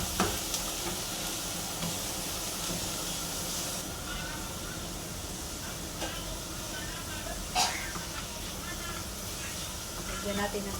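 Shrimp sautéing in a frying pan, sizzling with a steady hiss while a utensil stirs and scrapes. Faint voices can be heard in the background.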